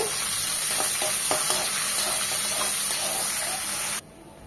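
Chopped onion hitting a hot pan of frying whole spices, giving a loud continuous sizzle with stirring clatter for about four seconds before it stops abruptly.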